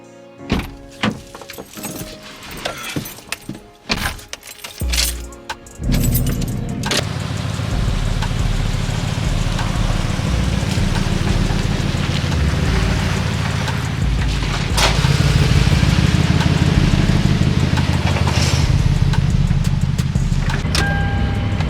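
A Toyota truck hauling a trailer gets a few door thunks and movements close by, then the engine starts and settles into a loud, steady running drone as it drives off.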